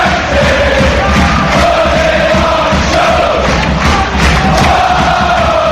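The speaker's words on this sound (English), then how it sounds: "just have a listen to Rodney Parade is rocking" A packed football stadium crowd at Rodney Parade roars and chants continuously during an FA Cup match between Newport County and Manchester United, a loud, dense wall of voices with no single speaker standing out.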